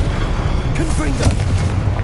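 Confringo, an explosive spell, goes off in Hogwarts Legacy as a low, rumbling burst over dense battle noise, with faint voices in the mix.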